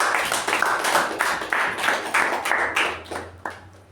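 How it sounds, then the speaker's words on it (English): An audience at a Toastmasters meeting applauds, a steady run of close, fairly loud claps with distinct individual hand strikes that taper off toward the end. "A round of applause to Toastmasters."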